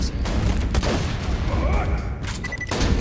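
Bursts of gunfire from Borderlands 2 played co-op, with sharp shots and booms cutting through a loud, busy firefight over a few seconds.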